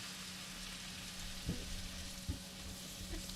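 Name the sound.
garlic parmesan risotto with beer sizzling while stirred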